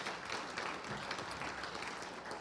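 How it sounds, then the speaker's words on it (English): Brief, fairly faint audience applause at a university gathering, a dense patter of clapping lasting a couple of seconds with no talk over it. "I think Scott needs a round of applause."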